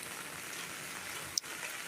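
Steady rain falls outside a small shop in the Philippines, a dense even hiss of drops with one brief sharp knock partway through, no voices.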